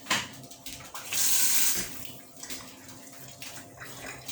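A whisk gets rinsed under a running kitchen tap, water splashing and gushing nearby in uneven surges, with one louder rush partway through and softer trickling around it.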